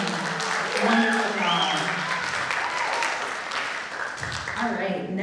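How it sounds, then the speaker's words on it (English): Applause from an arts-program showcase audience fills the space, steady and fairly loud, with voices and cheering mixed through the clapping for the performers. "Let's give one more round of applause for those fantastic performances"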